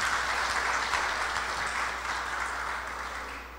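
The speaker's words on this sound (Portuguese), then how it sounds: "Uma palma para quem tem mais de 40 anos de Lions." Steady clapping from a seated audience at a Lions club talk, honouring long-standing members; even, moderately loud applause that slowly tapers toward the end, with no speech over it.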